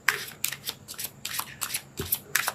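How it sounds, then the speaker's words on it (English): Tarot cards are shuffled close by in quick riffling bursts, about eight or nine crisp flutters in a row with short gaps between them. "Let's pull a card for your emotional space."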